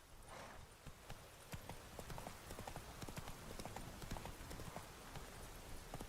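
Steady, rhythmic hoofbeats ring out quietly as Roach gallops in The Witcher 3 Wild Hunt, with no talk over them.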